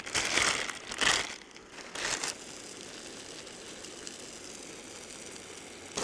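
A paper wrapper is crumpled and handled at a camp stove meal, with several bursts of crinkling in the first two seconds, then a quiet outdoor background.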